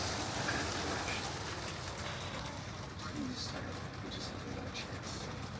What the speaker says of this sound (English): It's a hailstorm.